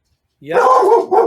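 A pet dog barks close by in a home, a loud, continuous bark of about a second followed by a shorter second bark, right after someone speaks.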